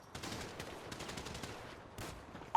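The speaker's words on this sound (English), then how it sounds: "You can go ahead and shoot the guns to see the difference of rate." Rapid SMG bursts in GTA FiveReborn, a law-enforcement SWAT training session, crackling as repeated quick shots at a moderate, fairly distant level with a louder hit at the very end.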